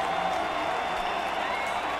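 Short burst of crowd applause at a marble race, dense clapping that holds steady across the moment, fairly close and full.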